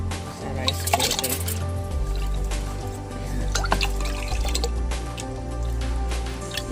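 Water pours into a rice cooker pot, a continuous splashing fill that shifts to a deeper, fuller gurgle as the pot fills, with faint drips over the flow.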